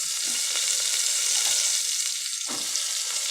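Eggplant goes into hot oil spiced with salt, coriander-cumin powder and turmeric, giving a loud, continuous hiss of frying with a brief stir or splash near the end.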